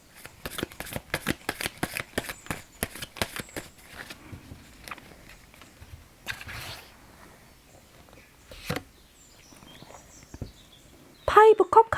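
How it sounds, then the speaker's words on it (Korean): Tarot cards are shuffled in a quick run of sharp riffling snaps, followed by quieter sliding and single card flicks as one card is drawn, with a crisp flutter at the end. "그럼 코코넛님을 위한 조언 카드 한 장 뽑아보도록 하겠습니다."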